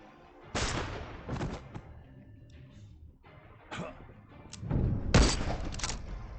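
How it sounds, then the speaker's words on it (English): Shotgun blasts in the crime strategy game Empire of Sin, several loud booming shots spaced irregularly, with the heaviest pair clustered near the end over low game ambience. "So see if you can get some kills with that shotgun"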